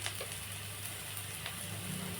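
Onions sautéing in oil in a pan with chili powder and coriander powder for a tiffin dish: a steady close sizzle and crackle throughout, with faint stirring scrapes and a low hum beneath, no talking.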